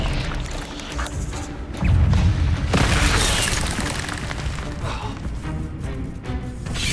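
An Expelliarmus spell cast in the Hogwarts Legacy video game lands as a loud, deep booming burst, followed by a second crashing blast about a second later over steady game background noise.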